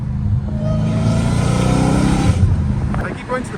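Straight-piped Dodge Challenger Hellcat Redeye accelerating hard, a loud, continuous low exhaust roar that stays heavy and close throughout, tapering slightly near the end with a voice briefly audible.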